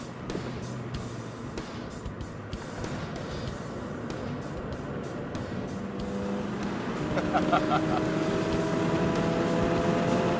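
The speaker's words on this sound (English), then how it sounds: "The little Fiesta ST on a track." Ford Fiesta ST lapping Plains Raceway in Colorado, its engine drone building and rising in pitch toward the end, with intermittent clicks and wind noise over a continuous mid-level roar.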